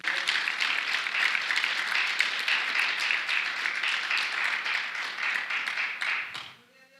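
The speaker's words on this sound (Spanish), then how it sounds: "Dele un aplauso fuerte al Señor." A church congregation applauds loudly and steadily for several seconds, a dense wash of many hands clapping together, before tapering off near the end.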